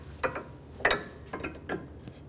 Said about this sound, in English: I'm going to loosen up this jam nut, use a 15/16 wrench or a 24mm.